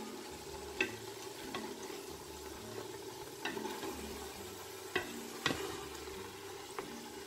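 Chopped celery and green onion are stirred into a simmering chicken mixture for Cameroonian poulet DG with plantain, a faint, steady bubbling and sizzle with a few soft scraping knocks of the spoon, no voices.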